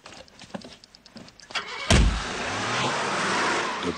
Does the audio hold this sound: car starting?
yes